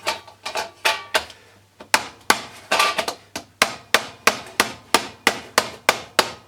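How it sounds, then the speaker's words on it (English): Repeated sharp metallic hammer blows, about two per second, striking a thin metal cake tin in a steady rhythm, close and loud. "So go with the hammer, hold it there and beat it round."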